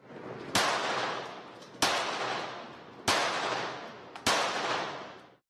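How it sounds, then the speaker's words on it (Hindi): Four rapid-fire pistol shots ring out during 25-metre rapid fire training, each a sharp, loud crack followed by a long decaying echo, spaced about one and a quarter seconds apart. "25 मीटर रैपिड फायर पिस्टल मुकाबले के लिए वो रोजाना सैकड़ों गोलियां चलाता है"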